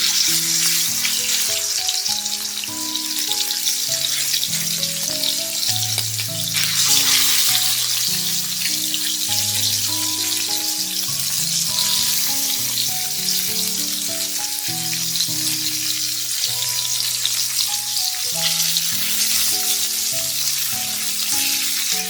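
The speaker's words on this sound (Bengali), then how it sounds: "চিংড়িটা ভেজে নিই।" Prawns for chingri malaikari fry lightly in oil with a bright, continuous sizzle and spatter that holds steady throughout, while melodic background music plays underneath.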